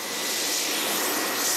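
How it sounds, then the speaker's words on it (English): A helicopter in flight during commando training, with a steady, loud, broadband roar of engine and rotor throughout and no other sounds. "Flying in a helicopter to get there"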